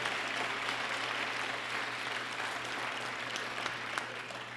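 An audience applauding at the Barbara Lee & Elihu Harris lecture series, a sustained, even roar of many hands clapping in a large hall over a low steady hum, holding level throughout with no speech.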